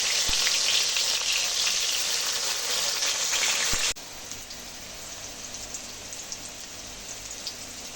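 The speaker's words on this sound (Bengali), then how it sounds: "এবার উচ্ছেগুলোকে এক এক করে ভেজে নিচ্ছি" Bitter gourd slices frying in hot oil give a steady, loud, close sizzle with crackles, dropping to a quieter hiss about halfway through.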